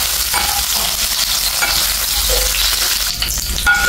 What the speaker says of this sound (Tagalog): maglalagay po tayo ng mantika. Ating onions guys. Ayan. Haluin lang natin siya guys.